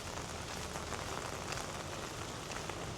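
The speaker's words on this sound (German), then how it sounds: "Ja, leider haben wir hier Regen" Steady rain falls at a beach resort on Mai Khao Beach in Phuket, a dense continuous patter of drops on surfaces, moderately quiet and unbroken, with no voices.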